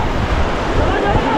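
Rushing rapids and waves of the Chenab river near Katra roar loudly around a raft, a broad churning wash with wind buffeting the microphone and voices talking over it.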